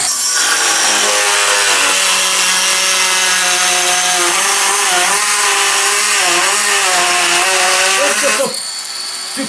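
A NEXO angle engraver fitted with a 45 mm cutting disc whines loudly and steadily as it cuts, its pitch wavering under load for about eight seconds before spinning down near the end.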